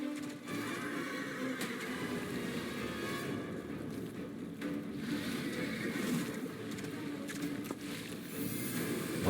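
A horse neighs with a sharp whinny in the video game Lords of the Fallen, amid busy game background noise, with scattered clicks and thuds throughout.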